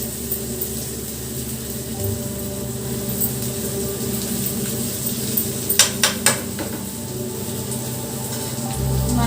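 Onions frying in a pan for egg cake masala curry, a steady crackling sizzle like light rain, with a few metallic clinks of a utensil against the pan near the end.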